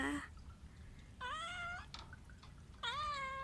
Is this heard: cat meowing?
yes